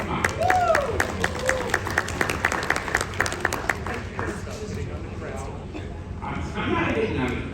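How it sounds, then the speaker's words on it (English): An audience at a glassmaking demonstration at the Corning Museum of Glass claps in a quick burst of applause that fades within a few seconds, with a voice talking over and after it. "Why don't you give yourselves a round of applause?"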